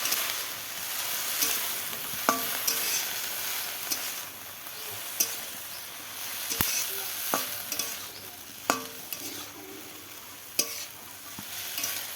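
Radish flowers, buds and stalks fry in a pan with a continuous close sizzle, broken by intermittent sharp clinks and scrapes as they are stirred.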